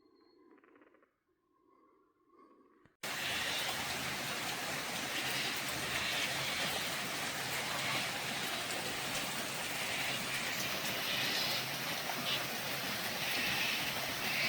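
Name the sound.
rain starting to fall outdoors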